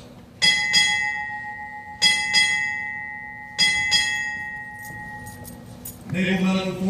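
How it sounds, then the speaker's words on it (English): A ship's bell rings in three paired strikes, six chimes in all, each ringing out and decaying, followed by a short burst of a whistle or horn, at a Navy change of command ceremony. "Bosun, sound six bells."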